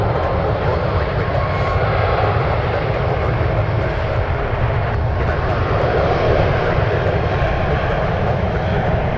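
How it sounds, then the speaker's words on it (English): A United Boeing 777 takes off, its jet engines producing a loud, steady broadband roar that holds strongly throughout without a break. "2 for 1 shot with the United 777s. This one heading off to Taipei."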